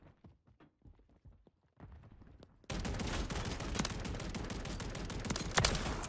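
Automatic gunfire in the video game Modern Warfare 3, a full-auto AR shotgun emptying a magazine: quiet scattered shots first, then a sudden dense, loud sustained burst of rapid fire lasting several seconds.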